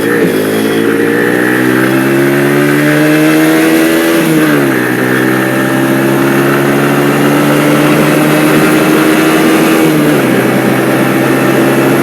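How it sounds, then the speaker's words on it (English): Motorbike engine revving steadily and climbing in pitch, with a dip near four and ten seconds as it shifts up through the gears into fifth, loud and close throughout the ride. "I'll hit 60 now. Into fifth. Fifth gear on this bike is a bit of a joke."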